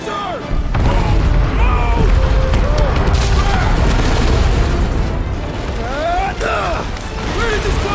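A continuous, loud, rumbling explosion roars in Marvel's Guardians of the Galaxy game, with crashing debris throughout and characters shouting over it.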